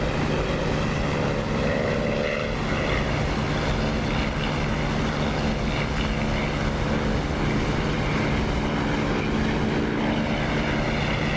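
Propeller aircraft engine in the DCS flight simulator game, a steady droning roar with prop pitch and RPM being adjusted, running continuously and loud throughout with no talk.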